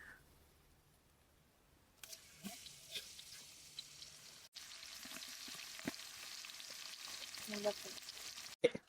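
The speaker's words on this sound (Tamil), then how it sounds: "நல்லா கிண்டுங்கப்பா இடிச்ச பூண்டு அலையில போட்டுக்கலாம்" Crushed garlic fries with cumin, fennel and green chili for village-style crab rasam. After a quiet start, a steady close sizzle begins, broken by soft scraping stir strokes and small clicks.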